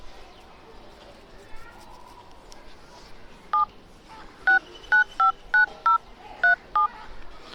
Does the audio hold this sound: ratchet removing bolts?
no